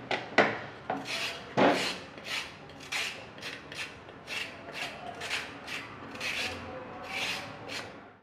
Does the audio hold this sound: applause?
no